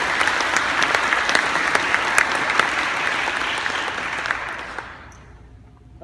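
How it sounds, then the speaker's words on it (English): A church congregation applauds at a baptism, dense steady clapping from a crowd that carries on, then fades away near the end. "she can applaud"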